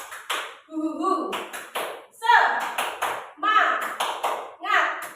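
Tepuk semangat, a rhythmic clapping pattern done by a group, with sharp bursts of hand claps alternating with voices chanting and laughing in time.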